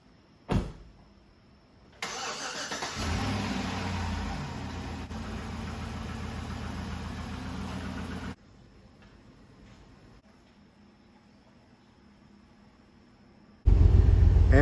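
A Buick Grand National engine cranks and catches, then runs at a steady idle with a continuous broadband roar, fairly close, before settling into a quieter hum and ending with a loud burst, no voices.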